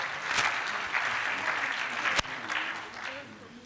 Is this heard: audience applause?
yes